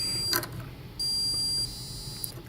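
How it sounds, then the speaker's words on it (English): A student-built microcontroller electronics project's buzzer holds a steady, high electronic tone. It sounds faintly, swells louder for about two-thirds of a second, then drops back, with no voices. "the buzzer plays a constant tone"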